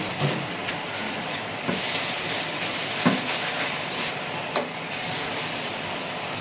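Red amaranth greens fry in a pan, giving a steady, close sizzling hiss with a few brief stirring clatters. No one speaks.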